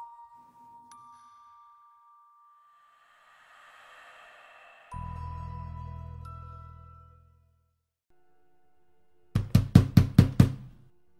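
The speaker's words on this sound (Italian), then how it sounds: "Quell'improvviso bussare alla porta del suo rimorchio lo fece ghiacciare immobile." Sudden sharp knocks rap on a trailer door, a quick burst of about six loud raps following quiet tones and a low swelling drone.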